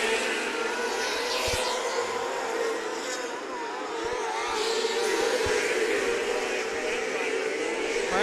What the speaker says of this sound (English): Cale rolling the bottom to perfection in that Driven 1 Midwest chassis